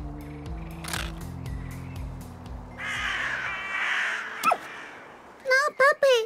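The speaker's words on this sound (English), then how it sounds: "Freaking blackbirds!" Blackbird caws in Little Misfortune ring out as a few sharp, harsh calls near the end, loud and close, after game music and a breathy gasp.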